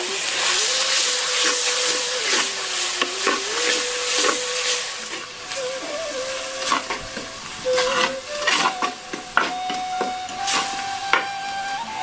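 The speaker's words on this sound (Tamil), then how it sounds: "150 கிராம் நறுக்கி வச்சிருந்த தக்காளியை சேர்த்து நல்லா வதக்க ஆரம்பிச்சிருவோம்" About 150 grams of chopped tomatoes, with onions and salt, are sautéed in a pan for a dry fish gravy. A steady, close sizzle and hiss runs throughout, broken by frequent scraping stirs, with no talking.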